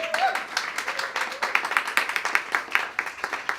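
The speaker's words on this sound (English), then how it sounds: "give yourselves a round of applause for being amazing" A live evening audience at a poetry reading claps in a brisk, crackling round of applause, many hands at once, with a brief voice at the start.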